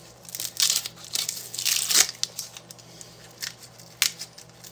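Dry papery crinkling and tearing as the outer skin is peeled off an onion, in short close bursts with quiet gaps between them.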